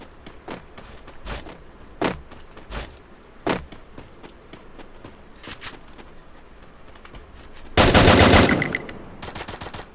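Gunfire in a Garena Free Fire match: scattered single shots spaced a second or so apart, then a loud sustained automatic burst lasting about a second and a half, followed by a few more shots, with no talking.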